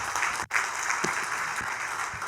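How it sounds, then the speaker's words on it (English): Audience applause at a wedding industry professionals keynote, a short burst of steady clapping from a sizable crowd with a brief dip partway through, no voices. "Give him a round of applause."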